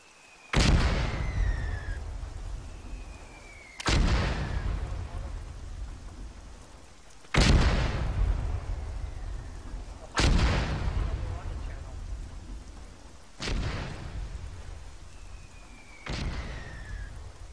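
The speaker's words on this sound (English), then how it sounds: "Mortar incoming, get down." Six heavy mortar explosions in the military shooter Arma 3 land at steady intervals of about three seconds, each a sharp loud blast trailing into a rumbling decay, with a faint whistle before some.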